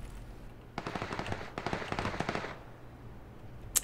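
Distant gunfire from a PUBG firefight comes in quick, crackling bursts over about two seconds, trailing off into quiet with one sharp faint pop at the end.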